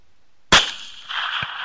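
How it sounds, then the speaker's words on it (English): One sharp, loud rifle shot fired from a helicopter during a hog hunt, with a short echo, followed by the steady rotor and engine drone behind it. "Okay, I'm going to shoot."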